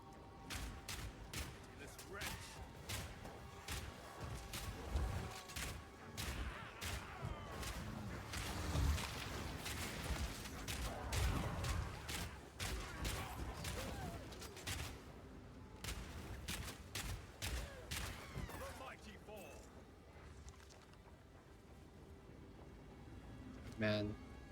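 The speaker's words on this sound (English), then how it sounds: "Auto crossbow shots, all we need." Rapid, repeated auto crossbow shots from Path of Exile 2 gameplay, a dense rhythmic stream of sharp snaps and impacts with occasional heavier booms, running steadily throughout with some game sound layered in.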